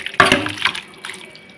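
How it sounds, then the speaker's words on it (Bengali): Fish curry gravy made with potatoes and vegetable stalks is poured out in a few short liquid splashes and trickles, close and brief. "তো দেখো এখন ঝোলটাকে আমি ঢেলে নেব।"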